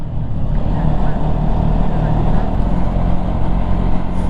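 Nine motorbikes ride together on a road near Bandarban, producing a constant, loud, rumbling engine drone close by with wind noise and no clear breaks.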